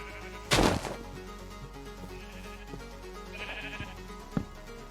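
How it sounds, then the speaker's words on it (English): Sheep bleat in a single-player video game on a snowy landscape: one loud, close bleat rises over steady game ambience, followed later by a fainter bleat and a few soft thuds. "There's sheep."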